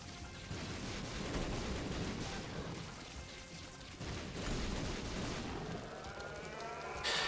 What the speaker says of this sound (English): Just constant explosions everywhere.